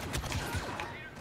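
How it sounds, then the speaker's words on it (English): Bursts of blaster fire in Star Wars Battlefront II, a few rapid close shots under a voice, brief and fairly quiet. "Stop shooting at me."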